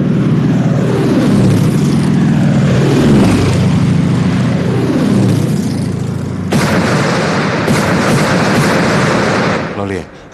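Bomber aircraft attack in a war drama: heavy droning engines and rumbling blasts with sweeping pitch, then a sharper burst of explosions and debris near the end, loud and continuous.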